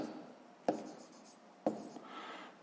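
Pen or pencil writing a math expression on paper during a sixth-grade exercise, two short sharp scratching strokes about a second apart, quiet and close, with no talking.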